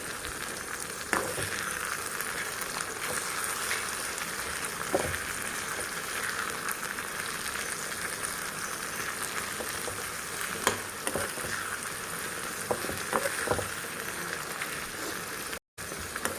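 Mushroom curry masala fries in a pan with a steady, soft, crackling sizzle, broken by occasional faint clicks and stirs and one brief dropout near the end.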